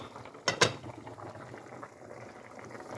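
A pot of Jamaican curry mutton simmers over a lowered flame, with a soft, steady bubbling close by and two quick clinks of metal near the start.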